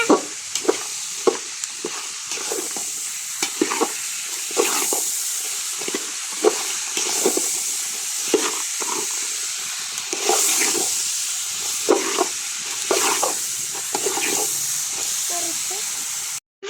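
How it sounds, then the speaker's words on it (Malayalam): Rock salt being stirred into a homemade pickle, a steady hissing scrape with repeated stirring strokes at close range, with some faint background sound between the strokes. "കല്ലുപ്പ് ഇടാൻ പോണേ. മിക്സ് ചെയ്യണേ."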